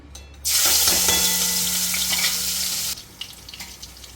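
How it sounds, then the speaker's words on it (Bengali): Garlic, dried red chilies and onion hit hot oil and fry with a loud, steady sizzle lasting about two and a half seconds, then drop to a quieter crackle. "দুটো শুকনো লঙ্কা, পেঁয়াজটা ভেজে নেব।"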